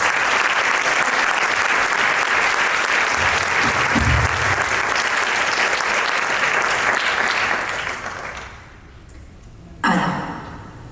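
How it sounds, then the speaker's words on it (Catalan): An audience gives loud, sustained applause for a dancer about to perform two poems at a Catalan stage show, the clapping steady for about eight seconds before fading out, followed by a brief low rumble. "així que un aplaudiment a Clau Figuera."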